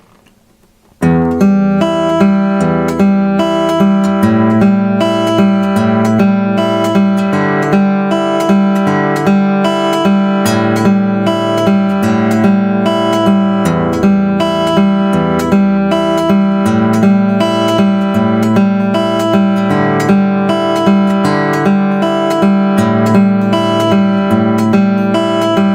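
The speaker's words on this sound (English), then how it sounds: "So the practice arpeggio sounds like this." Fingerpicked guitar arpeggio in a blues tune, played in a thumb-index-ring-index pattern as steady eighth notes in four with two bass notes per measure, ringing clearly and continuously for about 25 seconds with no talking.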